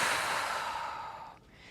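A single long, close breath is pushed out during a mobility exercise, starting strong and fading away. No one speaks.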